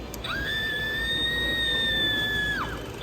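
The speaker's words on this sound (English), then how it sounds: "One of them was this little baby thing that screams." A small Halloween animatronic baby toy lets out a single sustained electronic scream lasting over two seconds, loud and piercing against a background hiss.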